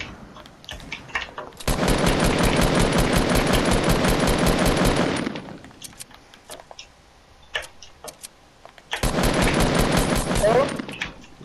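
Loud sustained automatic gunfire in Fortnite Battle Royale, two long rattling bursts separated by a quieter gap with scattered shots and clicks, close to the listener, with a voice talking partway through.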